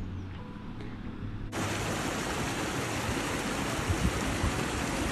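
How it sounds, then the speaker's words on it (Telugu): A mountain stream flows near a garden hut close to Hallstatt, a steady, dense rushing wash that swells suddenly louder and then holds constant. "సెలయేర్ అంటారు కదా, సెలయేర్."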